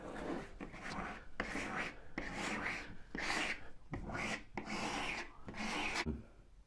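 A hand rubbing over freshly hung wallpaper, making soft scratchy crinkles from trapped air bubbles in repeated close, quiet strokes.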